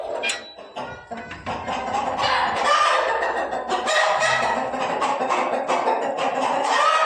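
Roosters and chickens cluck and squawk steadily close by, overlapping calls filling the whole stretch with no one talking.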